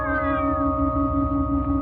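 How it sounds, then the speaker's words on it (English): A crowd of cats yowling and caterwauling near an old inn, a radio mystery drama sound effect: a dense, continuous wail of overlapping meows with a falling cry at the start, loud and steady with no talk. "What's that racket? Just cats."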